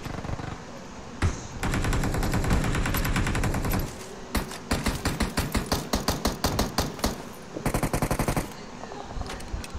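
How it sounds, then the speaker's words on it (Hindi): Automatic gunfire in a BGMI battle royale match, with long sustained bursts from about 1 to 4 seconds, then rapid rhythmic volleys of shots, loud and close throughout with no talk over it. "कौन है मेरी छाती पे गोली चला रहा?"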